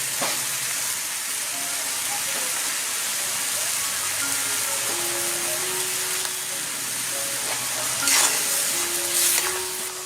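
Coconut milk seasoned with salt and turmeric sizzles steadily in a pan while being stirred, a continuous frying hiss with soft scraping, with a faint background melody and no talk.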